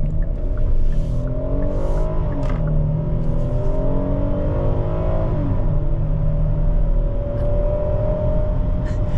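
A Hyundai Palisade with a 3.8 V6 accelerates uphill, heard from the cabin as a steady engine drone with rising pitch and a gear shift partway through, over continuous road rumble.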